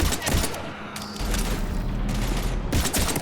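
Dense, continuous gunfire from a Mass Effect 3 firefight against Husks, loud and sustained across the whole stretch with voices calling out over it.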